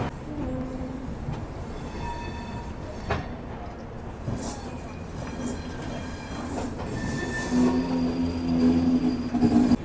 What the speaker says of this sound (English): So finally we have departed from SMVT terminal